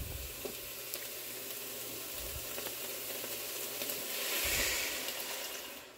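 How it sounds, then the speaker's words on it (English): Cauliflower softened and thawed in a pot sizzles steadily as sweet and spicy sauce is poured in, a continuous close frying hiss that swells briefly near the end as the liquid hits the hot pan. "So I'm going to add in half of the sauce."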